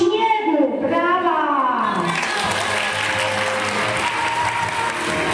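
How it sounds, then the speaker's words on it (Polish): A theatre audience breaks into sustained, loud applause at a staged show, the clapping steady and dense throughout, with a few voices audible at the start. "Brawa!"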